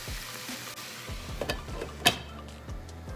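Ground pork fries in a covered pan, giving a steady low sizzle with scattered ticks and light clinks of the lid and pan, heard close with no talking.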